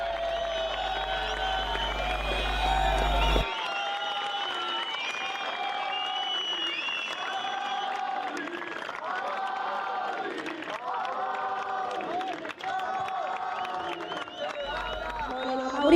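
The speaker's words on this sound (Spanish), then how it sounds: "Un aplauso gigante para Amaury Laverne, quien se quedó con la segunda posición" A crowd applauds the runner-up at the finals day awards of the 2024 Fronton King competition in Gran Canaria; steady sustained clapping runs throughout under music and a loud announcer's voice.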